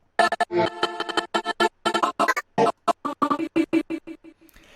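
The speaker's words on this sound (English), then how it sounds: "a very glitchy sort of lead that could build up to the drop" Glitchy electronic lead built from chopped, stuttering sample slices, used as a build-up in an Ableton production; rapid choppy bursts with abrupt gaps, loud and alone.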